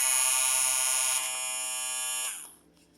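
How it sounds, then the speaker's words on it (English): Kemei 1858 hair clipper with a brushless motor running, a steady high-pitched electric whine with dense harmonics that drops away and winds down near the end, close and alone. "they really, really sound like they're a brushless motor"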